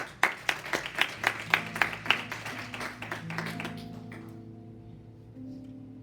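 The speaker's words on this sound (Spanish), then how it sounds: "démosle un aplauso" A church congregation claps along in a steady rhythm of sharp, distinct handclaps that thins out and fades, leaving a sustained organ or keyboard chord ringing alone at the end.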